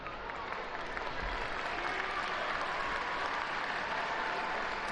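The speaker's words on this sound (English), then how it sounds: "that is met with warm applause from the home crowd" Home crowd at a Brighton & Hove Albion versus Manchester United Women's Super League football match giving warm applause, a steady sustained clapping from a large stadium audience at a moderate distance.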